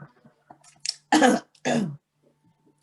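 Two sharp, loud coughs in quick succession, preceded by a short throat-clearing rasp and faint breathing, in an otherwise quiet room.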